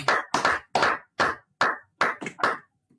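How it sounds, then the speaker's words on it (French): Clapping for the Lord at a gospel church service, seven or eight separate short bursts of hand claps in an uneven rhythm, close and fairly loud with no talk. "applaudissez pour le Seigneur"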